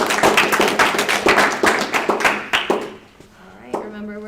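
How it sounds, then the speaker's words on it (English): Audience applause at a school spelling bee: a burst of close, sharp hand claps that thins out and fades after a few seconds, leaving quieter room sound and a brief tone. "Let's give them a round of applause."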